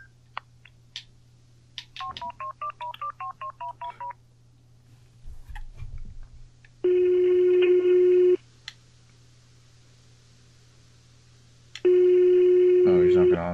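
A phone call in a video game goes unanswered: a run of dialing tones, then two long, loud ring or busy tones separated by a pause, with a steady hum underneath.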